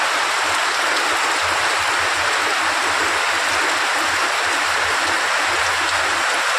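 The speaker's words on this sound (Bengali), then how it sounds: "আর প্রচণ্ড জোরেই বৃষ্টি হচ্ছিল।" Heavy rain pours down in a village, a loud, continuous broadband hiss of rainfall with steady patter on surfaces, unbroken for several seconds with no voices.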